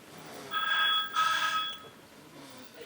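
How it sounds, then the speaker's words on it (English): A telephone rings inside a prop Tardis on a TV chat show, two bright electronic trill bursts with a brief gap between them, clear and fairly loud against quiet studio background. "So can we ring the phone now,"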